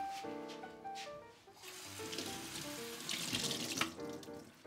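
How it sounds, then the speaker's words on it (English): A tap runs steadily into a sink to wet a rag for cleaning boots before polishing them, a loud continuous gushing splash that swells in the latter half. "the first step is cleaning the boots, and I'm going to do that with some water"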